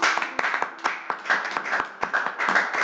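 A church congregation claps along in a steady, quick rhythm during a Sunday service, with many hands blending into a dense, even beat that carries through without pause.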